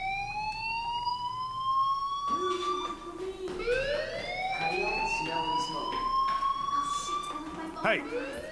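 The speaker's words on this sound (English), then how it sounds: "Hey, do you hear that fire alarm?" A fire alarm wails in rising, siren-like sweeps inside a school setting in the video game Life is Strange, loud and continuous with faint voices underneath.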